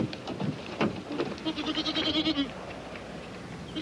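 Goats bleating outdoors in a rural setting, a wavering, quavering cry rising and fading, with a couple of shorter bleats around it, fairly close and loud, without talk.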